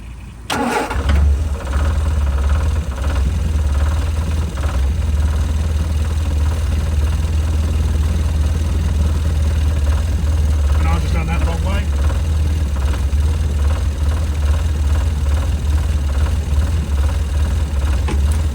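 A Ford 100e engine, checked after harsh cold weather, cranks and catches, then settles into a steady, loud idle close by for the rest of the stretch.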